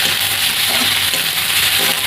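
Spice paste of cumin, whole cumin, dried chilli and turmeric sizzles steadily in a little oil with eggplant and shrimp, a close, continuous frying hiss with no pauses and no voices.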